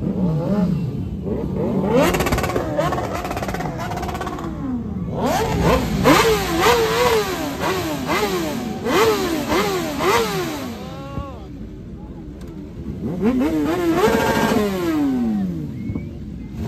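A BMW M1000RR superbike at a superbike meetup revs loudly and close by, its engine climbing and falling in repeated sharp sweeps, with brief pauses between bursts.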